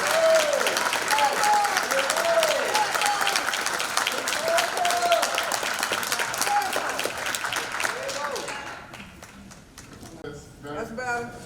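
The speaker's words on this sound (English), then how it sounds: "Let's give Kamm Howard a big round of applause" A symposium audience at Malcolm X College applauds a speaker, dense sustained clapping from a crowd filling the room for about nine seconds before tapering off, with scattered voices and a few claps lingering at the end.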